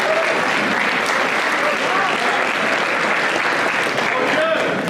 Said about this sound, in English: Now give a big round of applause to our volunteers for helping us out today.